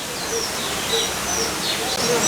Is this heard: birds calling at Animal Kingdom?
yes